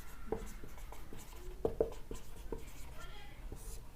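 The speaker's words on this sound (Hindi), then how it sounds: "यहाँ पे मैं आपको रिमाइंडर लिख रहा हूँ भाई" Marker or chalk strokes on a board while writing the remainder of a unit-digit maths problem, a string of short scratchy taps and squeaks spread irregularly over a few seconds, with a faint voice in the background.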